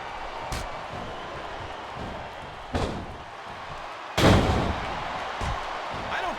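Wrestling slams during a 30-man Royal Rumble match in the WWE SmackDown vs. Raw 2008 video game, including a Gory Bomb: several heavy booming thuds, the loudest near the middle, over a steady rumbling crowd bed.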